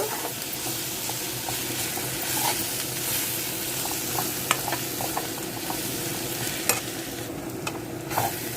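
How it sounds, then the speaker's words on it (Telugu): Onions and curry leaves sizzle steadily in a hot pan, a dense crackling hiss with occasional scraping stirs. "కరివేపాకు వేయించింది మిక్సీ బట్టి ఇది కూడా ఈ ఉల్లిపాయలతో పాటు వేగాలి కాసేపు"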